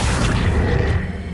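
A spell cast in Hogwarts Legacy produces a dense, loud magical rush with a deep booming low end, sustained evenly for over a second with no talking.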